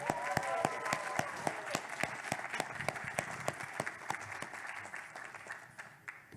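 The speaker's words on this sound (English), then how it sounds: "Round of applause." Audience at a Furpocalypse 2022 Match Game convention panel claps for a contestant: brisk, scattered hand claps from a modest crowd, loud at first and tapering off, with no talk over it.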